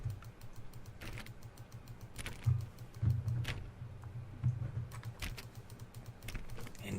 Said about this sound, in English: we're going back to my office and clicking the door.